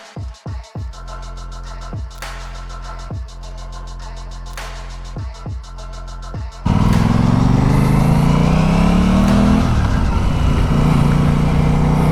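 An Aprilia Tuono 660 Factory motorcycle engine first idles with sharp blips of the throttle, then pulls away loudly on the road, rising in pitch as it accelerates and shifts.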